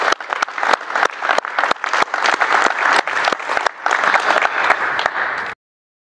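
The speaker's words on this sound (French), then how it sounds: "je voudrais quand même vous demander de les applaudir pour l'effort, la préparation de leurs activités" An audience at an information session for a 3x3 basketball cup claps for the presenters in a dense burst of applause lasting several seconds, then it stops abruptly.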